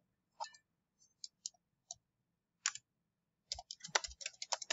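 Sharp computer mouse clicks, a few spaced single taps, then a quicker burst of clicks and keyboard-like tapping near the end, close and fairly quiet.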